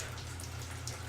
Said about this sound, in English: I like the sound of the rain